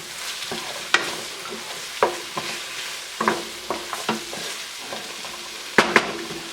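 Garlic stirred in a hot pan, sizzling steadily while a utensil scrapes and clanks in a string of sharp, close, irregular strokes.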